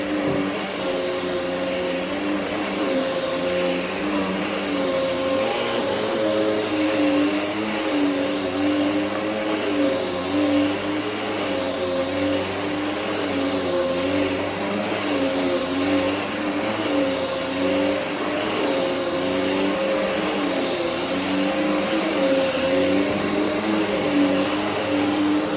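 A vacuum cleaner runs steadily on carpet during a cleaning of a place left uncleaned for a year, a loud continuous motor whine with a slight wavering drone and no pauses.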